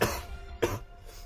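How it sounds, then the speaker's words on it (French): Two muffled coughs close by, about half a second apart, over a low background hum. "Ça doit être insupportable quand je tousse,"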